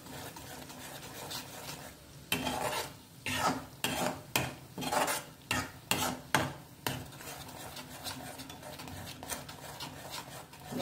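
Tomato paste and masala roast in a pan for vegetable kofta curry as a spatula scrapes and knocks in a quick run of strokes over a low sizzle, quiet at first and then briefly busier.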